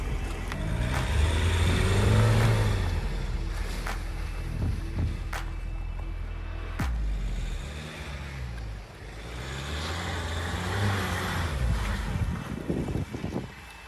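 A 2022 Ford Ranger Wildtrak pickup crawls offroad with a loud, continuous engine drone that rises and falls, plus heavy wind buffeting and rumble from the terrain.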